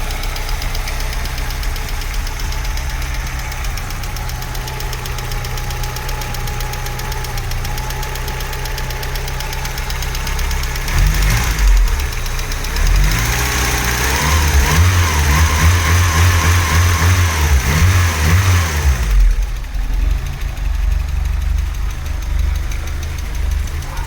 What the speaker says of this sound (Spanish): Primer arranque, a ver si hay que tensar más la correa o no.